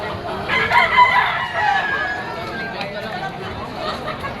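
A three-year-old pumpkin gamecock crows loudly and nearby, with one drawn-out crow early on followed by fainter fowl sounds and background chatter.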